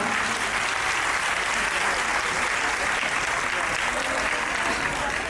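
Audience applause fills a preschool annual day event as parents are welcomed, a steady, dense clapping from a crowd that holds evenly for about five seconds.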